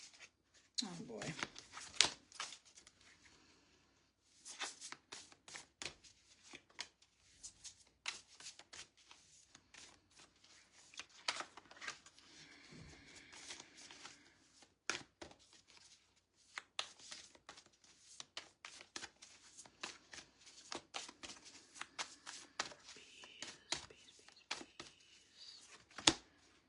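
Moonology oracle cards being shuffled by hand for a reading, producing a long run of crisp, papery riffles, slaps and flicks in irregular bursts, close by, with occasional talking in between.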